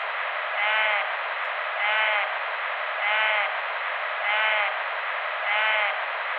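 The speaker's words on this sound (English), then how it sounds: "I played what is probably a bleat of a bighorn sheep" A bighorn sheep's bleat, recorded in Yosemite, repeats five times at even intervals, each short wavering call over a steady band of hiss.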